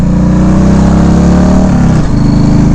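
A 1996 Harley-Davidson Evo Low Rider motorcycle engine revs loudly up close, a deep throbbing idle climbing and then dropping back with a shift in pitch near the end, no voices over it.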